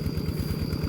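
A walk-behind tractor engine idles close by, a steady low chugging throb that keeps an even rhythm throughout the short stretch, with no talk.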